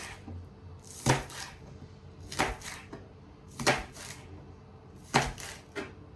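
A knife chops green onion on a cutting board in a home kitchen, four distinct, evenly spaced blade strikes, close and moderately loud, with quiet pauses between them.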